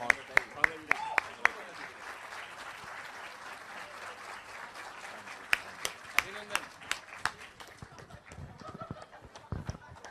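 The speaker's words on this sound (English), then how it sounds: "a huge round of applause for the Long Service Award winner" Applause for a Long Service Award winner at a 59th foundation day event, a quiet, fairly distant patter of claps with a few sharper individual claps standing out at times.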